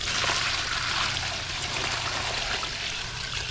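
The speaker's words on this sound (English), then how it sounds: "And we'll just transfer the water in there." Water pours steadily from one bucket into another in a back garden, a continuous close splashing trickle that holds for several seconds without any talking.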